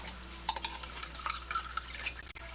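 Cold water poured into a container to fill it, with soft splashing and clinking of dishes in a kitchen while sauce is being made; brief, faint and close, with no talking.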